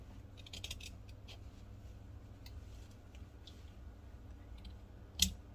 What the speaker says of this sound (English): You see, I'm just cutting the extra part.